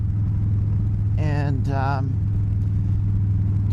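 Traffic on a busy main road passes as a steady low rumble close by, with someone speaking briefly over it.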